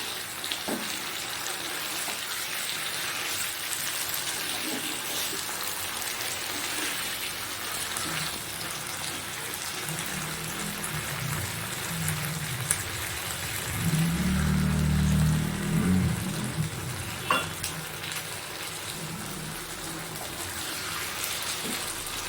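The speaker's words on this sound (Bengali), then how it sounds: "তারপরে আমি জল ঢেলে এটা একটু চাপা দিয়ে দেবো" Water poured over frying spiced potatoes for dahi aloo dum, a dense continuous hiss and bubbling simmer with a brief louder gush midway, heard close with faint clatter.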